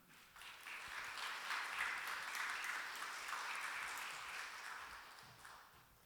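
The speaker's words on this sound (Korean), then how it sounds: "우리 정민기 선교사님 나오실 때 박수로 한번 환영할까요?" A church congregation claps to welcome a missionary to the stage, a soft, fairly distant patter that swells after a quiet start, peaks midway, then slowly tapers off.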